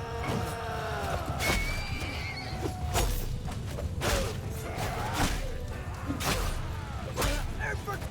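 Horses whinny and neigh repeatedly in a Mount & Blade II Bannerlord battle, with several rising and falling calls over a rumble of hooves and combat noise, and someone talking.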